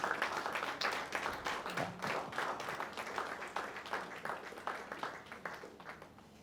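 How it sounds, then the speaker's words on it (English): A crowd applauds with dense, steady clapping that gradually tapers off toward the end. "a round of applause for the McGill team"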